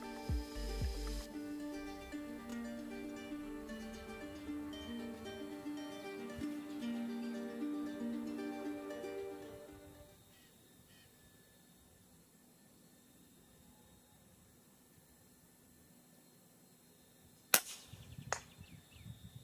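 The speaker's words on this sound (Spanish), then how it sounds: "voy a disparar parado, a ver si se lo logro pegar" Single sharp rifle shot fired from a standing position at a target 102 m away, one loud crack near the end after music fades to quiet background hiss.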